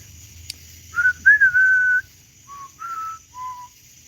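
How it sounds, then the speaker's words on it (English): A man whistles a spaghetti western melody alone, a few clear sustained notes and short phrases with pauses between, close and fairly loud over a quiet background. "I might get a copyright strike if I whistle the whole tune, right?"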